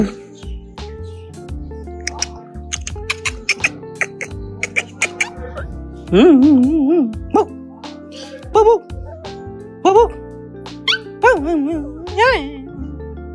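Siberian husky puppies yip, whine and whimper in short bursts, with a few sharper barks and rising, wavering whines close by and some talking in between.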